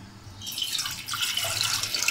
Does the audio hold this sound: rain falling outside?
no